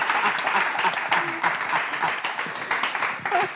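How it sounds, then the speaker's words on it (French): An audience claps and cheers for the artist Cana in a dense, steady burst of applause from a crowd, loud and continuous throughout, with faint voices mixed in. "Applaudissez pour Cana."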